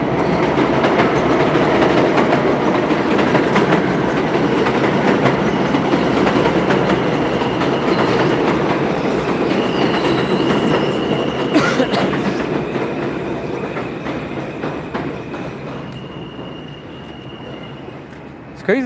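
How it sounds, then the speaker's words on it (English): A New York subway J train thunders past on the elevated line over Jamaica Avenue, loud and close with rolling wheel clatter and roar, then gradually fades as it moves away. "There's a Jamaica bound J train."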